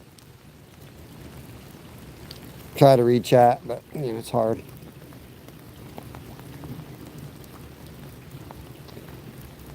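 Steady rain falls throughout during a cold-weather trout and bass fishing outing, a soft continuous patter under a short burst of nearby speech.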